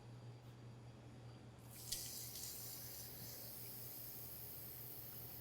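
Water runs into a large cooking pot for a peanut sauce, a steady broadband hiss that starts abruptly near two seconds and continues evenly to the end over a low constant hum.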